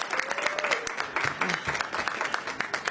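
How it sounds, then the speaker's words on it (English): Applause for New York City Mayor Eric Adams at an announcement on homelessness, an audience clapping steadily with a few voices and a faint whistle-like tone rising through the clapping. "I want to give him a round of applause"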